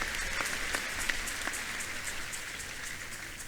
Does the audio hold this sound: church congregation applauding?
yes